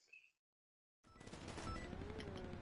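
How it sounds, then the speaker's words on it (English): GTA V gunfire: a rapid burst of distant automatic shots rattling on after a short silence, dense and rough, with a brief faint sound at the start. "I'm hearing some gunshots."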